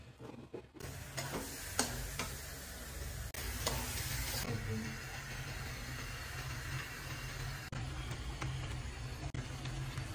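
Beef pieces fry with spices in a pan, giving a steady, close sizzle and crackle with scraping stir strokes and light ticking clicks throughout, no voices.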